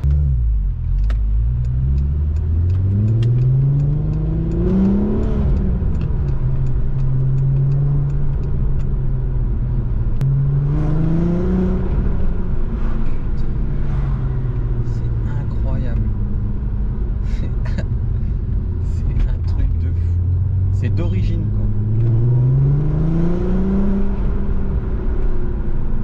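A Volkswagen Golf 4 R32 engine rises and falls through repeated accelerations, its deep, droning note climbing in pitch and then dropping back, loud and close throughout. Light road and cabin noise sits underneath, with occasional speech.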